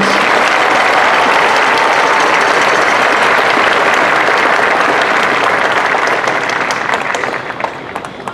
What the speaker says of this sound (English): please give these individuals a round of applause for their service to our students